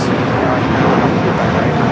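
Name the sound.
Korean Air Boeing 747-8 taking off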